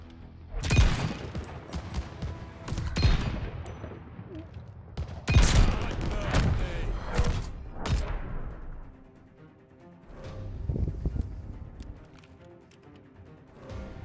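Gunfire rings out in a Call of Duty: Vanguard Search and Destroy match: sharp, loud shots and short bursts in scattered clusters, some near and some more distant, with quieter gaps between.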